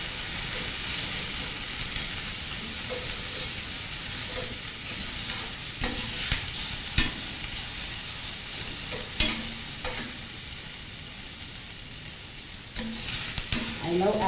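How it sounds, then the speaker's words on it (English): Food fries in a pan while being stirred, a constant close sizzle punctuated by intermittent scrapes and clacks of the utensil, with no talking. "We're going to continue stirring."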